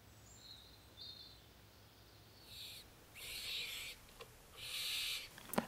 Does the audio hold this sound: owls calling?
yes